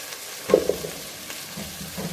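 Chunks of yam and sweet potato dropping into a simmering Ital stew, a soft thud and splash followed by light stirring and gentle sizzling, close and fairly quiet, no talking.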